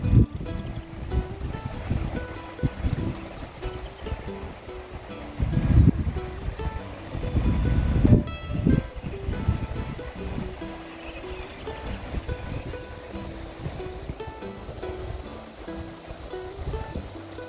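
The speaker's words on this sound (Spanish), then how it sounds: "Solamente se escucha el ruido del agua, del viento, los pájaros." Flowing water rushes steadily beside a stop on a mountain road, with wind gusting over it and swelling in a few louder bursts, all fairly faint and with no voices.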